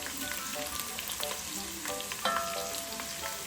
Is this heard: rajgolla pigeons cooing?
no